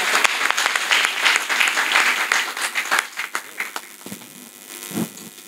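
Enthusiastic audience applause at a Hindi poetry gathering, dense clapping that thins into scattered individual claps toward the end.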